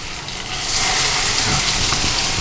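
Hash browns sizzle in a hot pan, a steady loud hiss and crackle of frying that swells after a brief quieter start and continues without a break.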